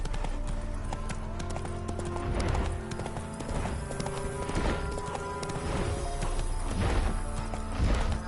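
Roach the horse gallops in The Witcher 3, hooves pounding out a rapid, steady clip-clop rhythm up close, with a brief whinny amid background game sounds.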